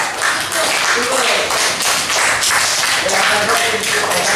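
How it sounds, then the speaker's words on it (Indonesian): A classroom of fourth-grade pupils claps together for a group, loud rhythmic hand claps in steady bursts, with voices mixed in. "Tepuk tangan untuk kelompok."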